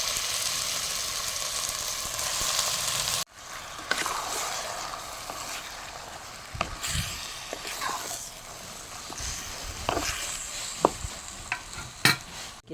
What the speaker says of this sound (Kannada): ಇವಾಗ ಟೊಮೆಟೊ ನೀರುಳ್ಳಿ ಫ್ರೈ ಅದು ಸಾಕೋದಕ್ಕೆ ಚಿಕನನ್ನು ಹಾಕ್ತೇನೆ